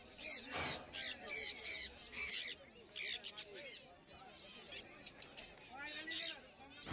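Zebra finches and other caged birds at a bird market in Uluberia chirp and squawk in quick repeated bursts, fairly close, with intermittent gaps between calls on a rainy day.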